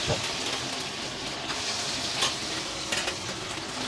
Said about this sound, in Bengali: ও সাইডে আমার মাছটা ভাজা হচ্ছে